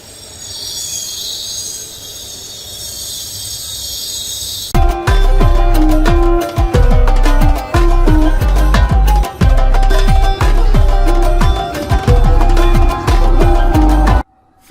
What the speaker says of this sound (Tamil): ஃப்ரெண்ட்ஸ், நாம பூனே ரயில்வே ஸ்டேஷன் மெட்ரோ போறதுக்கான ட்ரெயின் வந்துருச்சுங்க.